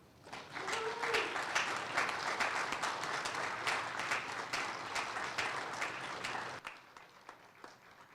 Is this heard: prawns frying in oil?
no